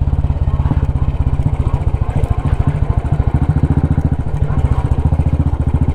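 A Royal Enfield 350 motorcycle rides off-road on a group ride near Pune, its single-cylinder engine thumping in a loud, steady, fast beat that runs close and unbroken throughout.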